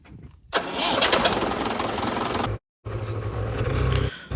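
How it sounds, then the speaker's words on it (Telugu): An engine cranks and catches, then roars loudly at close range, briefly cuts out, and resumes running with a steady rumble. "సేమ్ పంప్ కొట్టేసి ట్రాక్టర్ అయితే స్టార్ట్ చేయాలన్నమాట"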